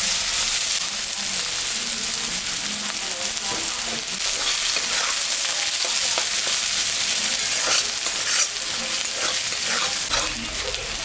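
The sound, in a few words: dried chili, bay leaf, cumin sizzling in oil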